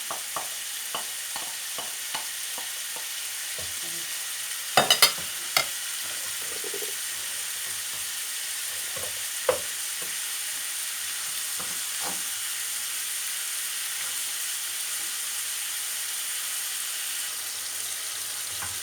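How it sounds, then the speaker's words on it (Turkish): Onion frying in a pan for stuffed-meatball filling, with a steady low sizzle and scattered clicks and scrapes of stirring, quiet and close over a long stretch without talk. "soğanı koydum."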